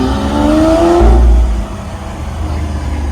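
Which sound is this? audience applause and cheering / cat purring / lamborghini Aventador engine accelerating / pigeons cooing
lamborghini Aventador engine accelerating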